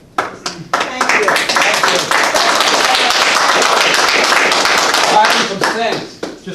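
An audience at an Elkton, Maryland town workshop breaks into applause, a few scattered claps swelling into dense, loud clapping that holds for several seconds before tapering off into lone claps.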